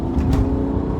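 A diesel car fitted with a tuning chip pulls away hard from a standstill, its engine giving a loud, steady low roar throughout the short burst.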